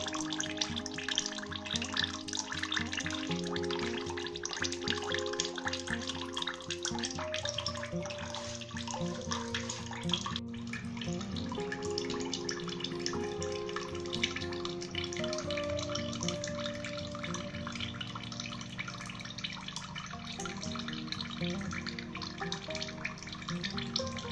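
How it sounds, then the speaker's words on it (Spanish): Water and freshly pressed olive oil run steadily from a traditional hand-worked olive press during artisanal oil making, a continuous close splashing trickle with faint dripping throughout. "ya empieza a correr ahora el agua y el aceite. Empieza a prensar poco a poco."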